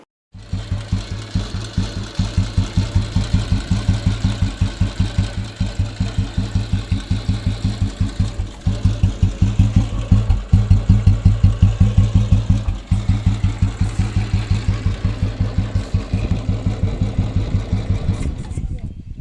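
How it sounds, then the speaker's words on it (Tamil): A vintage Royal Enfield Bullet motorcycle engine fires up and settles into a steady, loud, close thumping idle that runs evenly throughout. "சரி வாங்க வண்டியை ஸ்டார்ட் பண்ணி பார்க்கலாம்"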